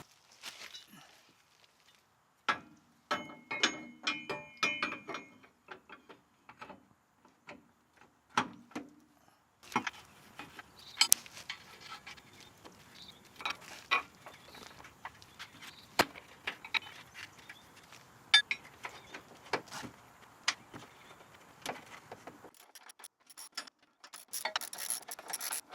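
A Rough Country track bar being bolted on with a hand ratchet: close, quiet clicking ratchet runs and metallic clinks come in irregular bursts, with knocks and tool handling between them and a little faint talk.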